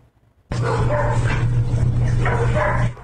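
Three abandoned dogs in an apartment in Balcones Heights barking and yipping continuously for a few seconds, fairly close and loud, with a steady low hum underneath.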